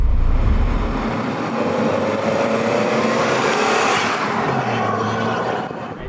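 A Lancia Delta Integrale EVO 2 driven hard and fast, its engine roaring steadily and close with rising and shifting pitch as it accelerates, with no talking.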